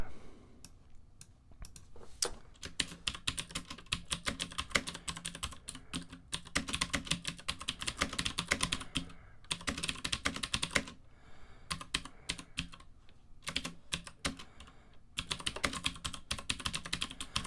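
Rapid, irregular typing on a computer keyboard while programming, close, crisp clicks in bursts separated by brief pauses, with no voices.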